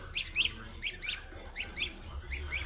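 Goslings on a small farm chirping in repeated quick bursts, a steady series of high, thin peeps close by with no talking.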